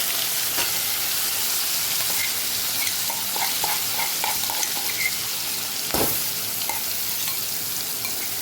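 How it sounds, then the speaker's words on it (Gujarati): Chutney being tempered in hot peanut oil with asafoetida, a continuous loud sizzle and crackle with scattered small pops and a stirring scrape, no talking. "તો હવે ચટણીનો આપણે વઘાર કરી દઈશું"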